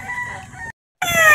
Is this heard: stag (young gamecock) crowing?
yes